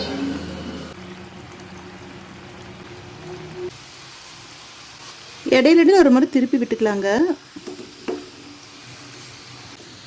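Kurkure dough deep-fries in hot oil over a low flame, a soft steady sizzle and bubbling that carries on quietly under a person's speech.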